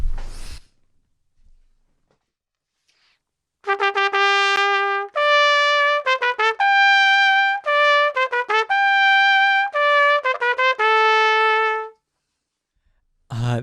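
A trumpet plays a well-known film theme solo and up close. A bright, brassy run of short repeated notes leads into longer held tones, in a clear march rhythm lasting about eight seconds, with silence before and after.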